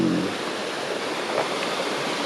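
Fast-flowing river rapids on a rafting river rush in a steady, broad wash of churning water, close and continuous with no voices.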